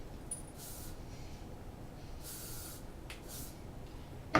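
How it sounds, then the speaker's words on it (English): Hairspray misted over curled hair in three short hissing bursts, soft and close, separated by brief quiet gaps with a faint background hum. "Once it's all the way curled, you just want to do one final spray."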